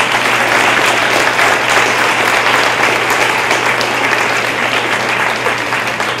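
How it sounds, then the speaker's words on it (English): A Los Angeles audience at a vegan activist's talk breaks into loud, sustained applause, a thick wash of clapping hands that holds steady and fades only slightly toward the end. "Give them a round of applause,"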